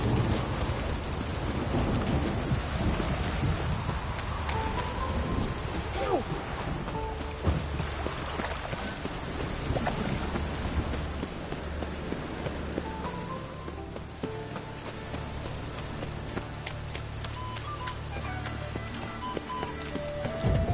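A thunderstorm in a PS4 video game: steady, dense rain pours continuously while deep thunder rumbles underneath and swells now and then, filling the whole stretch at an even level.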